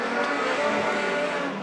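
A modified sedan races at Murray Bridge Speedway during an Australian title heat as one car spins in turn two; loud continuous engine roar with tire squeal and skidding, steady and close.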